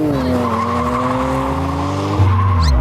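A Toyota Supra and a Dodge Charger launch off the line in a drag race, engines roaring loud and close as tires squeal, with the engine note rising sharply near the end.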